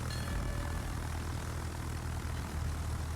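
Aircraft engines of planes from a German Graf Zeppelin carrier in World of Warships, a steady continuous propeller drone filling the background without a break.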